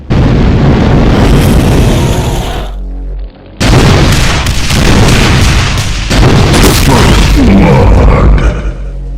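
Homing rockets from a Cyberdemon in a modded Doom game explode in loud, heavy booms, one blast after another. There is a brief lull before the roaring detonations resume.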